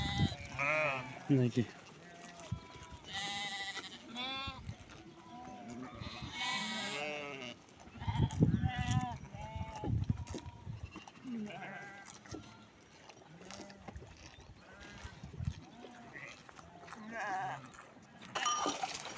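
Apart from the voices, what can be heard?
goats and kids bleating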